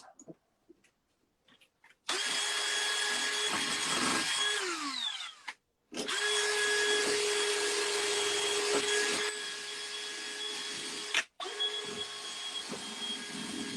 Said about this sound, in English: Couple more seconds of polishing around here. Getting in all the little grooves.